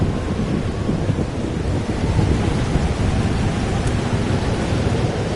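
Heavy rain pours steadily with a deep rumbling thunderstorm in the video game Life is Strange: Double Exposure, a dense continuous roar with no talking.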